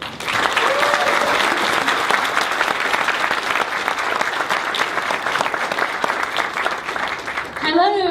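A conference audience gives a speaker a full round of applause at the opening of a digital-themed event. The clapping is loud, dense and continuous, and a voice comes in just as it ends.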